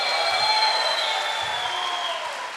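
A church congregation clapping together in steady, even applause that holds throughout at moderate loudness, with no voices standing out.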